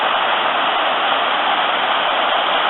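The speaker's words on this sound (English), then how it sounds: "So there's the waterfall." A Lake District waterfall gives a steady broadband rushing roar, even and unbroken, heard from a short distance with nothing else over it.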